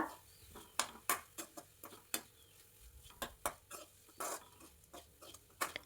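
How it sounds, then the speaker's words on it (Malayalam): Grated coconut and chili powder being sautéed in hot oil for a Kerala-style brinjal thoran, with a spoon scraping and clinking against the pan in irregular, fairly close knocks over a faint background. "ആ 1/4 കപ്പ് തേങ്ങ ഇട്ട് ഒരു 10 സെക്കൻഡ് ഒന്ന് വഴറ്റുക"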